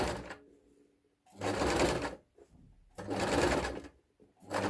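A sewing machine stitching a tiered, elasticated skirt runs in two loud sustained bursts of whirring stitches separated by short pauses, with a brief start at the very end.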